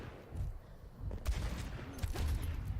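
A gunshot fired in a 1v1 video game match, with a couple of sharp cracks standing out over a low, busy game backdrop of rumbling ambience and scattered impacts.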